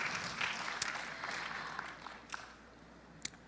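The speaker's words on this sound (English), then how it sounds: "Please give a round of applause for our distinguished speakers." An audience at an inter-faith tolerance panel applauds the speakers, a short burst of clapping that thins out with a few louder individual claps near the end.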